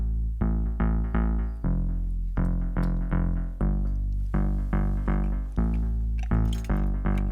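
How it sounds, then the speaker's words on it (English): Layered deep house bass with a thick sub and a plucky, bass-guitar-like upper tone, pumping in a steady rhythm from sidechain ducking. Loud and close, with no voices. "So together the basses sound like this."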